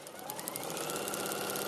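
A sewing machine stitches steadily along marked red lines on fabric, a rapid, even mechanical patter that runs continuously and fairly close throughout.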